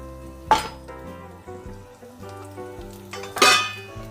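Garlic frying in hot oil on a gas stove for a Konkani curry, with two sharp bursts of sizzling close by, separated by a quieter stretch with a steady tonal hum underneath; no talk.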